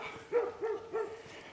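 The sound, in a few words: Great Pyrenees dog barking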